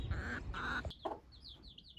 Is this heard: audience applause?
no